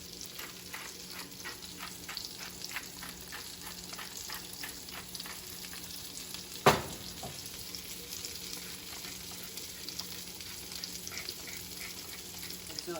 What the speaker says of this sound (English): I'm gonna now cook these potatoes, which are 2 potatoes, in the remaining butter and from the steaks